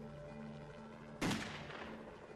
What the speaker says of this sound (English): But Phillips carries on shooting.